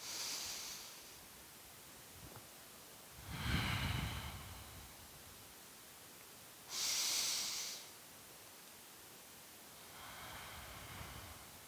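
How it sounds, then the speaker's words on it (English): Slow, deep breathing during a beginner's yoga session, with long airy inhales and exhales rising and falling at an unhurried pace, close and fairly soft, with no speech. "focus on your breath. Breathe in and out. A few more breaths."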